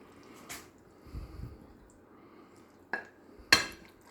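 Food being plated up with a spoon, a few scattered clinks and taps of the spoon against the plate mixed with soft squishy scraping, quiet with gaps between.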